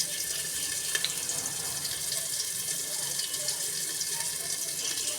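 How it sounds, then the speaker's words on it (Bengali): Soybean chunks frying in hot oil in a wok, giving a steady, even sizzling hiss that stays close and unbroken throughout with no voices. "সয়াবিনটা প্রথমে আমি একটু ভেজে নেবো 2 মিনিট"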